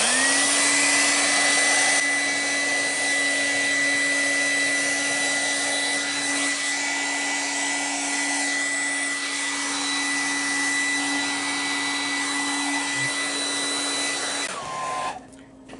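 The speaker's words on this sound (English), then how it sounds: "I'm going to take my hairdryer now and go ahead and heat this up once again" A hair dryer blows hot air steadily at close range, heating a rifle grip for a Ruger 10/22, with a constant whine and hum, then clicks off near the end.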